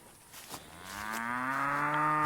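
Heifers on a farm moo in a long, rising, drawn-out call that swells louder toward the end, heard close and alone with faint outdoor background.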